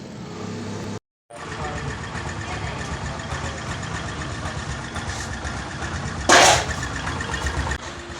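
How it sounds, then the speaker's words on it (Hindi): A rebuilt motorcycle engine runs close up with a steady, even drone after a brief dropout, and a short loud rev-like burst comes near the end. "अब इस गाड़ी को स्टार्ट करते हैं और इसकी आवाज़ सुनाते हैं कि किस प्रकार की आवाज़ निकल रही है"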